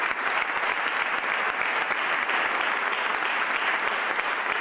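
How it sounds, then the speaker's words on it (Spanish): Loud, sustained applause breaks a minute of silence held in memory of Elena de la Cruz during a regional parliament plenary session; a full room claps densely and steadily from start to finish. "Dolor contenido en este minuto que rompió con un gran aplauso."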